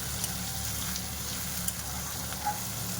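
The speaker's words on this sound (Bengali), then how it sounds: "দিয়ে এটা ভাজতে ভাজতে না বেগুনও ভাজা হয়ে যাবে" Eggplant frying in oil rendered from fish over a low gas flame, a steady soft sizzle with faint bubbling crackles that stays even throughout, no voices.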